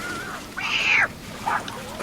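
A man imitates a cat, giving a rising, drawn-out meow followed by a shorter second one, heard fairly close amid background murmur at a bass fishing tournament broadcast.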